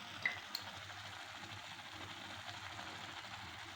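Paneer butter masala curry, with water and salt just added, is stirred in a pan, a soft, quiet scraping with a couple of faint clinks over a low simmering hiss.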